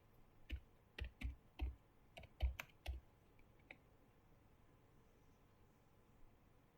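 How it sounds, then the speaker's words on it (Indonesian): Typing a config command on a computer keyboard while setting up a network switch: about seven crisp, close keystrokes in a quick uneven run, then quiet room tone. "Lalu kita ketikkan config T."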